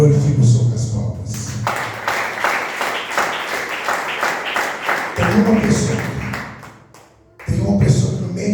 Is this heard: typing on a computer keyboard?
no